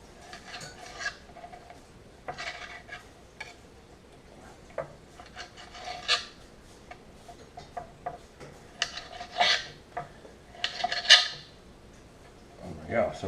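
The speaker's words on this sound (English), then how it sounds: "We're gonna cut them into little cubes." A knife cuts a striped bass fillet into little cubes on a board, with intermittent scraping and tapping strokes at an uneven pace, close and fairly quiet.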